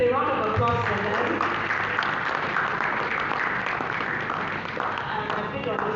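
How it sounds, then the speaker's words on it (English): An audience at a tech industry panel session applauds the panelists with sustained, even clapping from a large crowd, mixed with voices speaking over it. "Please, a round of applause for them."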